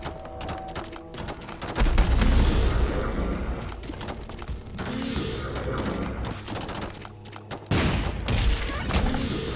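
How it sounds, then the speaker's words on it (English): Repeated booming explosions and bursts of gunfire-like blasts from the video game The Binding of Isaac: Repentance, loud and dense, with brief gaps between heavy impacts. "Bigger explosions."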